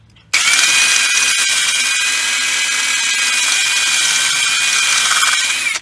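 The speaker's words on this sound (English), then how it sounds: "Now with a wire wheel, I'm going to clean the spots where pads are going to contact the two fingers" A drill driving a wire wheel to scrub the pad contact points on a rear brake caliper of a 2015–20 Silverado, Escalade or Yukon, a loud close steady high whir that starts abruptly and runs without a break before stopping.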